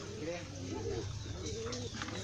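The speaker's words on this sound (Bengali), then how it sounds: "এই যে এটা গিরিবাজ কবুতর" Soft Giribaz pigeon coos repeat in low, rounded phrases beneath steady background noise and a few faint chirps at a pigeon farm of about 200 birds, with a voice talking intermittently.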